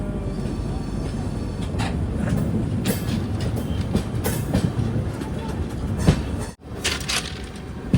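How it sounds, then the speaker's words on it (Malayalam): The Gurudev Express on its Nagercoil to Shalimar run rolls into Gudur with a steady heavy rumble and rhythmic clickety-clack of wheels over rail joints, heard close from the carriage, with a brief dip and jolt near the end. "ട്രെയിൻ ഇപ്പോൾ ഗുഡൂരിലേക്ക് എത്തുകയാണ്."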